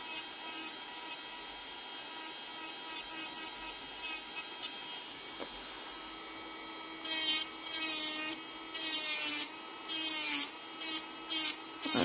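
A small electric nail sander files gently around the edges of a fingernail, producing a continuous high-pitched whir that becomes choppier with rapid scratchy bursts toward the end, close up and with no talking.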